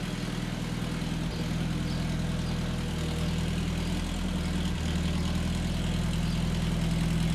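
A Land Rover diesel engine, a bit smoky, idles steadily and close at hand, a constant low rumble with no change in speed and no voices.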